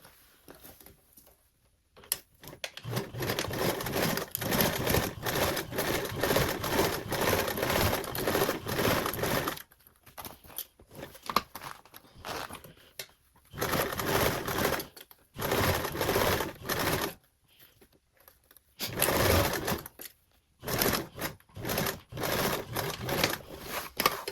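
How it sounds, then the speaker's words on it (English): A sewing machine stitches fabric with a quarter-inch seam allowance for a tote bag, running in fast rattling bursts of several seconds separated by short pauses, close and clear. "Now we can sew this with a 1/4 seam allowance."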